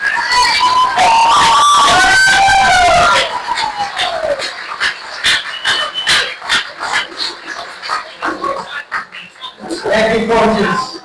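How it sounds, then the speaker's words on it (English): Banquet audience at a varsity athletic awards night cheering loudly with whoops and shouts, then breaking into scattered clapping that rises and fades, with a voice speaking briefly near the end. "A round of applause for new coaches."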